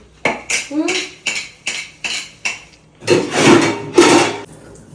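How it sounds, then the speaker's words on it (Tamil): Dishes and cutlery clatter close by in a series of clinks and knocks, followed by a rush of running water with more clanking underneath. "சரி, பாத்திரத்துக்குலாம் நான் கழுவிடுறேன்."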